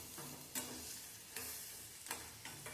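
Chopped tomatoes sizzle steadily as they fry in oil in a pan, with a few sharper scraping sounds where a spoon stirs them at irregular intervals, close up and with no voices.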